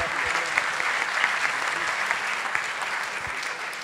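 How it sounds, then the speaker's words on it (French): A room full of people applauds continuously at an awards ceremony, dense steady clapping at moderate distance that tapers off slightly toward the end. "on applaudit Comanche pour son prix"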